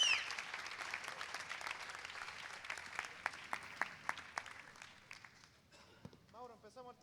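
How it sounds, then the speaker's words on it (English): Clapping from a camp audience for mentors, scattered hands with several sharp individual claps standing out as the applause thins and fades, with some talking toward the end. "All right, a big applause for these awesome mentors we have for you guys."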